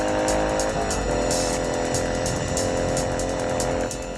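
Racing car engines roar loudly and continuously, with a steady revving drone and rhythmic pulses as cars speed past one after another.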